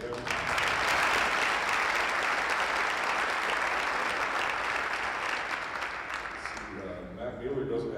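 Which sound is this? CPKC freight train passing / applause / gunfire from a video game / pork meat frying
applause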